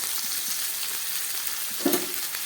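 Tomato goes into a pan of frying pabda fish, and the hot oil keeps up a dense, even hiss at close range, with a brief louder spatter about two thirds of the way through.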